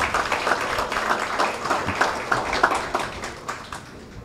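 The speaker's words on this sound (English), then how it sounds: "A round of applause for them, please." Guests of honor at a building handover ceremony receive applause from the audience, a moderate, steady patter of many hands clapping that continues evenly without voices standing out.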